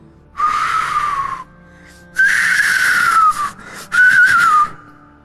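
Three sustained whistle tones, each lasting about a second, sound with short silences between them, loud and close.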